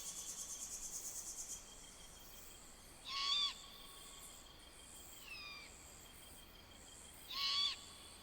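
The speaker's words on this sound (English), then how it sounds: "As great horned owls wage a pitched battle for ownership rights to their territories" Great horned owls hooting in a territorial battle over high, hostile ground in the Utah wilderness: three separate hoot phrases, the first and last louder, the middle fainter, with steady insects chirping throughout.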